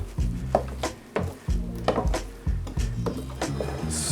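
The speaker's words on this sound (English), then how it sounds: "I'm gonna stir everything up" A utensil stirs turkey drippings into herb sourdough stuffing in a pan, making a run of loud, close knocks and scrapes in an uneven rhythm.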